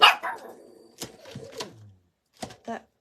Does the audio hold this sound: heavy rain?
no